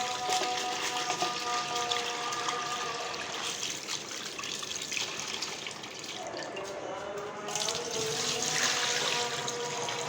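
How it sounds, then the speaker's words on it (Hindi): Water running and splashing steadily in a sink as lentils are rinsed and swirled by hand, close and continuous for several seconds. "मैं दाल को एक दफ़ा और धो लूँगी।"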